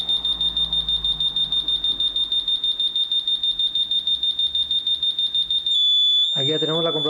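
A Honeywell home alarm system first emits a rapid, regular train of high electronic beeps through its entry delay, then switches abruptly to a steady siren tone near the end, with a brief voice-like sound in the final seconds.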